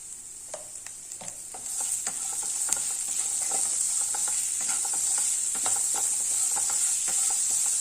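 Potatoes sauté with ground masala and salt in a hot pan for capsicum rice, a steady close sizzle underneath frequent stirring scrapes and taps of a spatula, with no talking.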